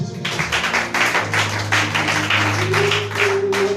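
A church congregation applauding together at a missionary Christian service, a dense steady patter of many hands clapping nearby in rhythmic waves, with a low sustained tone and some voices underneath.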